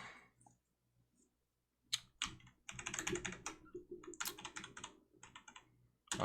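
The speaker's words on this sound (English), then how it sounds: "Should not be playing with my keyboards." Bursts of clicky computer keyboard typing, close and fairly quiet, with pauses between flurries of rapid keystrokes; a voice speaks briefly during a gap in the typing.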